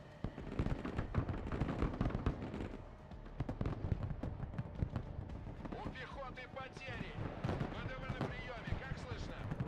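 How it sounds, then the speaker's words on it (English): Missiles fire rapidly in the Broken Arrow military strategy game as a dense stream of quick launches and bursts, with someone talking over the barrage. "Man, that thing can fire missiles like crazy, though"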